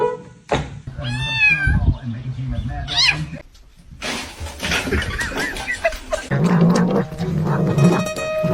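A pet cat meowing, several drawn-out, wavering yowls and meows close to the microphone, interleaved with household noise and people talking in the background.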